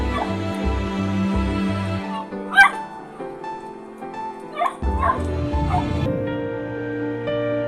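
Injured puppy barking in short yips and letting out soft whimpers, several separate cries against a steady background hum, with no talking.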